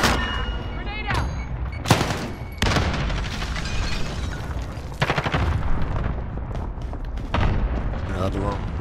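Close, dense combat in the shooter game Rocketman: rapid gunfire and sharp blasts, including a grenade explosion, form a continuous loud barrage while voices call out over it.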